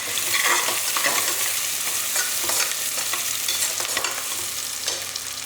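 Large slices of onion fry and sizzle loudly in a pan with curry leaves while being stirred, a dense, steady hiss with scraping that goes on throughout and no talking.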